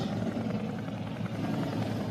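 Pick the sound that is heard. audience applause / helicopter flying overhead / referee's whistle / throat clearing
helicopter flying overhead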